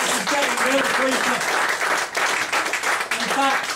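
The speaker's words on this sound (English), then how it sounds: "give that lady a round of applause, thank you very much indeed." An audience at a magic show applauds a volunteer, with dense, sustained clapping throughout while a voice talks over it.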